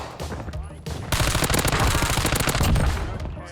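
Gunfire in the Call of Duty Warzone video game: a short shot, then a dense, loud burst of rapid automatic fire that continues without pause to the end.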